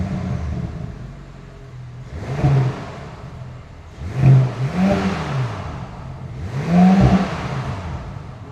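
A 2026 Audi S5 engine runs quietly, rising in three short revs that swell and fade over a low steady hum, each burst a little stronger than the last.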